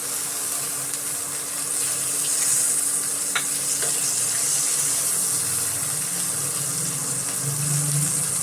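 Chopped garlic sizzling in a pan with prawns for chilli garlic prawns, a steady hissing fry with a few light clinks of a utensil, continuous and moderately close, no talking.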